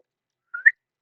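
A single sharp, loud whistle rising in two quick bursts, made by a voice imitating it, alone in silence.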